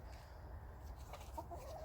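A hen clucks faintly a few times in a backyard run, soft and somewhat distant over a low steady background rumble.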